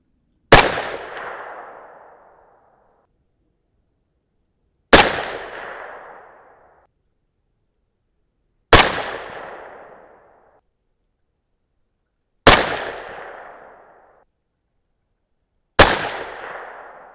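6.5 Grendel rifle firing 120gr Hornady ELD loads, five loud sharp shots spaced about four seconds apart, each with a short decaying echo, no talking.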